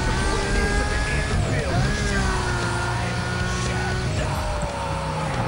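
A steady, high-revving Lamborghini Gallardo engine in Need For Speed: Most Wanted drones throughout, its pitch sliding up and down with gear changes, loud and continuous.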